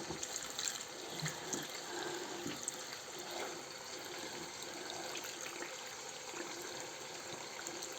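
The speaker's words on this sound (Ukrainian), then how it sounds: "Зараз заливаю водою і міряю воду." Steady running water poured into a container for several seconds to make a brine, a continuous hissy splash at moderate level with small clinks.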